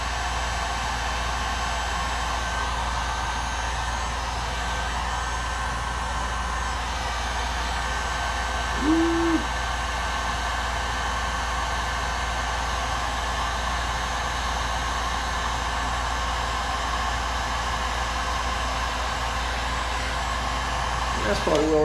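A heat gun blows a steady, loud hiss of hot air over heat shrink tube on a fishing rod leash, a constant roar running for the whole stretch with a brief tonal blip partway through.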